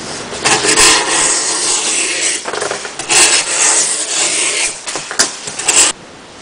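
A folding knife slices through 2-ply cardboard in a series of long, rasping strokes, close and loud, with short pauses between cuts and no talking.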